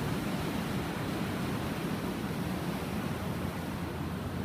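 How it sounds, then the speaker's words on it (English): Six-foot ocean waves break on a dead coral beach in a steady, loud, unbroken roar of surf with no voices. "these are good 6-foot waves here"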